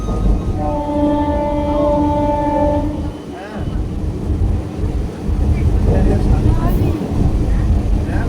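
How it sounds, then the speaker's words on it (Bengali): A local train bound for Canning, in rural Bengal during the rainy season, rumbles in steadily with a long horn blast near the start, rail noise continuing under a busy background and some voices. "চার নম্বর ট্রেনটা এলো আমার ক্যানিং ট্রেন"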